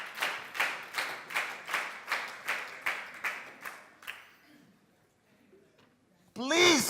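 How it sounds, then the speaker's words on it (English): Audience clapping in unison at a European leadership camp event, a steady rhythmic beat of about a dozen loud claps that fade out, followed by a quiet pause and then a burst of voices. "Keep that clap on."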